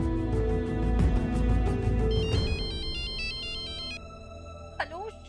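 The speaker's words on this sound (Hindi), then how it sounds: "शौर्य, मैं तुम्हें कब से फोन कर रही हूँ" A telephone rings in a Hindi TV drama scene, a repeating electronic ringtone pattern entering partway through after a loud musical swell, with a brief chirp near the end; no speech is heard.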